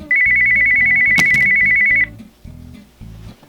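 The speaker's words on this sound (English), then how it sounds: "Phone's ringing." Phone ringtone sounding loudly and steadily for about two seconds over a repeating electronic melody, the melody continuing alone after the ring stops, with a brief click in the middle.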